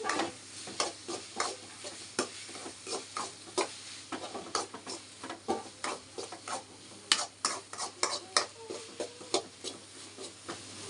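Onions sautéed in a pan for egg kulambu, stirred in a quick repeating rhythm of scrapes over a constant sizzle, close up with no talk.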